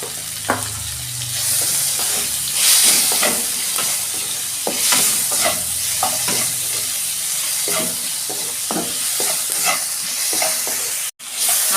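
Onion, tomato and salt fry in a pan while being stirred, a loud continuous sizzle broken by repeated scraping strokes of a spoon, with no talking.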